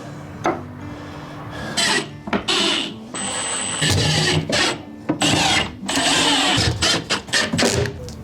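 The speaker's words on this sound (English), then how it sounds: "Now I'm just gonna bolt this to the wall and to the floor" Shelf being bolted to a trailer floor: bursts of a power driver whirring in short runs, mixed with scraping and knocks of hardware and wood, close and uneven in rhythm.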